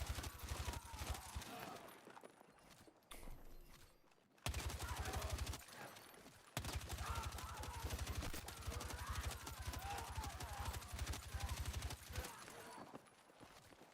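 A weapon in Battlefield 6 fires without pause on infinite ammo, an unbroken rapid machine-gun rattle that cuts out briefly twice before resuming at full volume.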